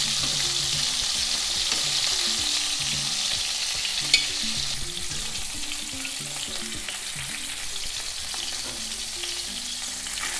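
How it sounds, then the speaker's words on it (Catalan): Monkfish pieces frying in hot oil for a monkfish and clam stew, a steady close sizzle running the whole time with light stirring and one sharp clink partway through. "Bé, doncs aquí ja tenim el rap fregit."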